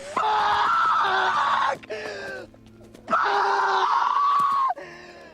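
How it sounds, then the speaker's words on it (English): A man lets out two long, loud, anguished screams separated by a brief gasping pause, raw and strained, close to the listener. "And with this primal scream, he finally lets it all out."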